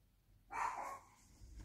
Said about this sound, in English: Dog can hear me talking in the room, thinks that we've got visitors as usual, and running up to the front door to say, who's here?